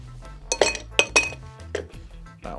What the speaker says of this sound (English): Put some ice in the glass.